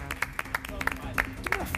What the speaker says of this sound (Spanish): aplauso para Soledad Silveira